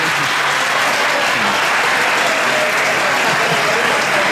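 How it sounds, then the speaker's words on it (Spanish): Loud, continuous applause from a large crowd at a medical school health camp event in Wheelwright, a dense wash of clapping that holds steady throughout without pause. "El tipo quería su aplauso"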